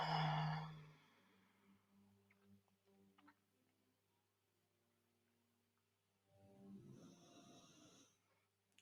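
A dog snoring softly and slowly nearby in a quiet room, two drawn-out snores separated by a long pause, with a brief louder tone at the very start.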